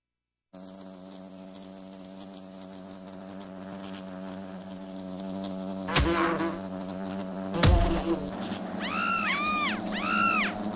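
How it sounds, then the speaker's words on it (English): Wasps buzzing in Fable Anniversary, a steady insect drone that grows louder with a couple of sharp impact hits and warbling swoops near the end, no speech. "Wasps!"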